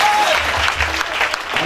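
Audience at a French-language spiritual retreat bursting into loud, continuous applause in praise of Jesus, dense clapping filling the space with a faint voice briefly heard at the start.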